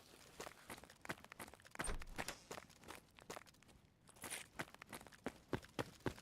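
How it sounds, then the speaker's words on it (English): Nearby footsteps in the video game DayZ, a run of irregular crunching steps on loose ground, fairly quiet but close, with brief pauses between bursts and no talk. "I heard footsteps close to me."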